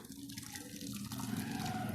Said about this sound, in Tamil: ஸோ அதை அப்படியே வடிகட்டிடலாம்